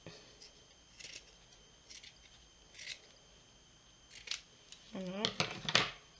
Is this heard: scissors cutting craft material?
yes